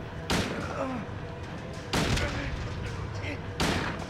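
Three heavy rifle shots in the horror video game Silent Hill 2, spaced about a second and a half apart, each a loud sharp blast with a short ringing tail over a low ambient bed.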